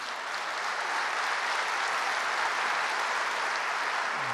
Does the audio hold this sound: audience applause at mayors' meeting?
yes